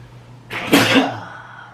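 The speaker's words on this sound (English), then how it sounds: "gotta sneeze." A single sharp sneeze bursts out close to the microphone, a brief intake followed by an explosive burst that fades quickly, alone with no talk.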